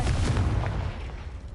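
A Confringo spell blast in a Harry Potter video game, a deep booming burst that rumbles and fades over a second or so, heard alone without voices.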